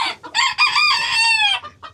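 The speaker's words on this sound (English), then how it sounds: "Here we have our guineas." Young guinea fowl keets give a quick run of high, shrill chirping calls, close and clear, several overlapping peeps in a brief burst with no talking.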